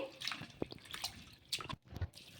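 Flattened rice (poha) being rinsed in water in a kitchen, with soft sloshing, drips and small splashes coming in uneven bursts close by, no voices.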